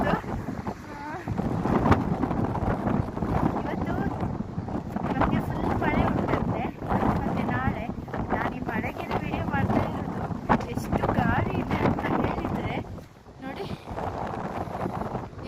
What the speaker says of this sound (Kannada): ಅಷ್ಟು ಗಾಳಿ ಬೀಸ್ತಾ ಉಂಟು